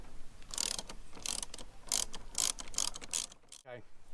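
A ratchet with a 7mm socket undoing a bolt on a Ford Fiesta ST engine bay, a close series of rapid clicking bursts in uneven rhythm, followed by a brief metallic scrape.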